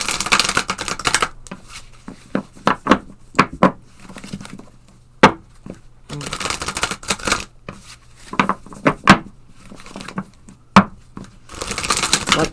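Archangel oracle cards being shuffled by hand, with bursts of crisp riffling alternating with sharp individual taps and slaps of the deck, close and fairly loud, no talking.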